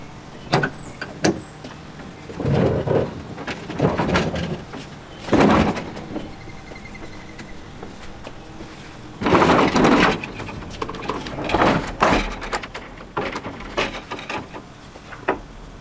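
A transport kart for a workbench being wheeled across a workshop floor, heard as several separate bursts of loud rolling, knocking and rattling, with quiet pauses between them and no talking.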